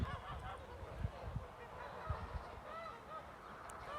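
Several geese honking repeatedly at close range on a goose farm, a loose chorus of nasal calls with some low rustling underneath and no talking.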